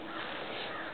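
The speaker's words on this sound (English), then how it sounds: "Oh, there's a crow." A crow cawing outdoors, one faint, brief call blended into steady broadband background noise.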